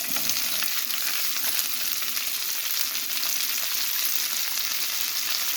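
Onion and capsicum fry in a pan for chilli chicken, giving a steady, loud hiss of sizzling oil that runs unbroken and close throughout, with no voices.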